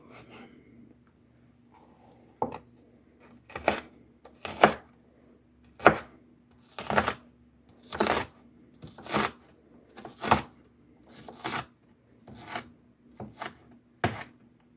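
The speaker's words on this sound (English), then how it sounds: "dice it kind of small" Knife dicing a vegetable on a cutting board, about ten crisp chops spaced roughly a second apart, close and clear with a faint steady hum underneath.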